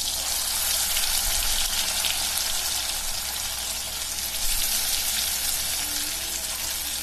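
Ground masala paste sizzling steadily in a small amount of hot oil, a dense, even crackle and hiss holding throughout at moderate level with no voices.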